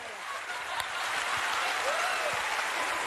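A studio audience applauds a Krisko impersonation on a televised celebrity look-alike show, the clapping steady and fairly loud throughout, blending into a continuous crowd roar.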